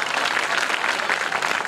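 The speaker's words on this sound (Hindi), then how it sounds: "जो बजाते रहे जोरदार तालियां" An audience claps vigorously at a patriotic poetry gathering, a dense, continuous burst of applause heard close and steady for a brief moment.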